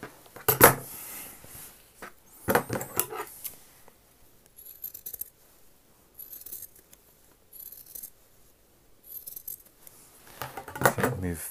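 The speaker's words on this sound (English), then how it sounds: "Trim that seam allowance there along that second line of stitching that you've done." Scissors trimming the seam allowance on a men's shirt, with several short, crisp snips spread apart, loudest at the start and end, and faint rustling of fabric between the cuts.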